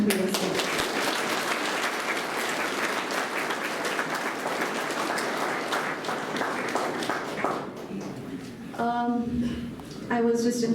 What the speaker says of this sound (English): Let us clap for your institute and for yourself.